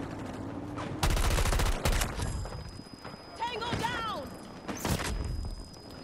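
Gunfire and explosions in Battlefield 2042 gameplay: rapid bursts of shots and sharp blasts, several loud volleys spread through the stretch, with in-game chatter and effects between them.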